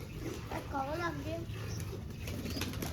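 Pigeons released from their coop, with cooing and a brief flutter of wings close by while someone talks over them.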